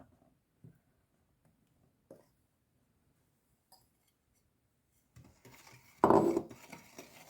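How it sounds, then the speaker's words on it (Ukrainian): Dough for jam-filled rogaliki being stirred in a bowl with egg and salt while flour is added. Faint, sparse taps and scrapes come first, then a louder burst of scraping and clinking near the end. "Маленько розмішаю і мукичку додаю"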